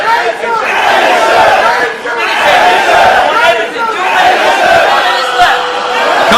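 Crowd shouting and chattering at a grappling match, a dense continuous roar of many voices that swells and dips but never stops.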